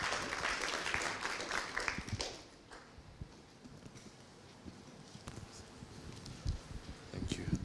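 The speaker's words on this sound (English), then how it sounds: "Big round of applause to him." A conference audience at a Pan-African gathering on illicit financial flows and taxation bursts into dense applause for about two seconds, then it thins into scattered claps and room noise.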